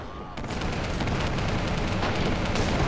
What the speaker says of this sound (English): Just go down in a fiery blaze of Crusader AA shells.